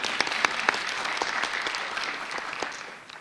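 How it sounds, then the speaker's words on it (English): Applause rises from the audience at a county budget hearing in Prince George's County, a steady wash of many hands clapping with a few sharp louder claps, fading slightly toward the end. "Let's round of applause for that."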